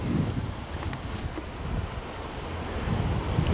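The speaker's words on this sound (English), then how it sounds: "The wind's whipping it around, so it's like somewhat flowing." Strong outdoor wind produces a steady, moderately loud rushing noise with low rumbling buffets that swell slightly toward the end.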